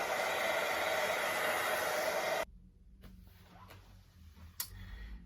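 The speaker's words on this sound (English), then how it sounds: "I'm just going to give it a little bit of a dry off with the dryer." A steady, loud rush of blowing air runs for a couple of seconds, then cuts off abruptly, leaving quiet room noise with a few faint clicks.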